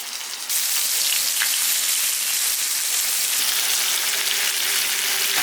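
Pork belly grills on a hot surface, giving a loud, close, continuous sizzle that crackles evenly and steadily throughout.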